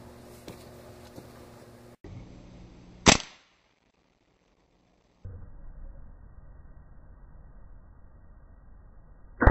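A pump airgun charged with six pumps fires once at a stale bread target three feet away, one sharp close crack followed by a sudden cut to silence, then another abrupt snap at the very end.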